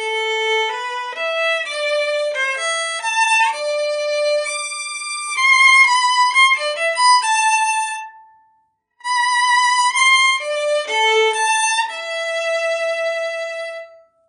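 A short synthesized melody built from a five-note Schoenberg-style tone row plays as clean, bright tones in quick, irregular steps, with a brief pause midway before the phrase resumes.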